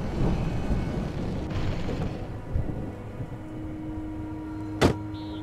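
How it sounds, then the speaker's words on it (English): Thunderstorm ambience in the video game Alan Wake: a steady rumbling wash of rain and low thunder throughout, with a sharp crack near the end and a faint engine-like hum underneath. "that storm we all felt coming is finally here"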